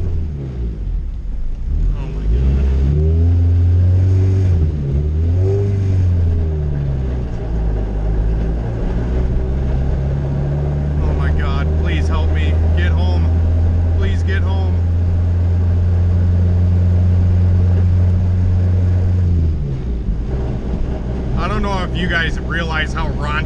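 Honda CRX engine idling and revving with a badly damaged transmission and worn input bearing, a steady low rumbling drone that rises and falls in pitch, close by, with someone talking over it.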